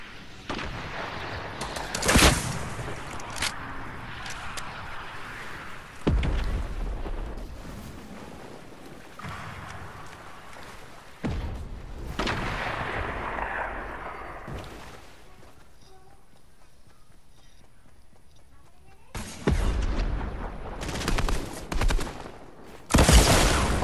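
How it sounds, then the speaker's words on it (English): Explosive rocket launches and blasts erupt in a shooting video game, several loud bursts separated by quieter rumbling stretches, with the last impacts booming up close. "I'm gonna shoot a rocket."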